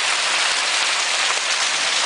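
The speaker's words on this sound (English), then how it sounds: "look at the hail come off his roof over there." Hail pours steadily onto a house roof during a July storm, a dense, continuous hiss and patter of stones striking the surface, loud and close with no voices.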